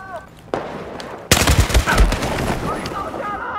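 Rapid bursts of automatic gunfire from a shooter video game, loud and close, crackling in quick succession over game sounds with someone talking intermittently.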